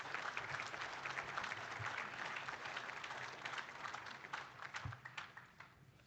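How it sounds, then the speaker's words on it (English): Audience at a collegiate livestock judging awards ceremony at a stock show applauds, a steady wash of many hands clapping that holds for several seconds and then thins out toward the end. "Please give all these administrators and those that I maybe missed a round of applause."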